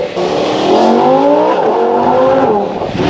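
Lamborghini Huracan with a naturally aspirated V10 accelerating hard, its loud engine note climbing steadily through rising revs and filling the whole stretch, close up and with no talk over it.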